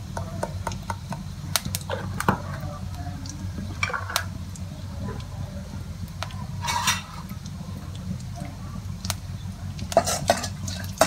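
Hing and cumin seeds sizzle softly in hot oil in a pan over medium flame, with intermittent scraping and clinking as a utensil stirs against the metal.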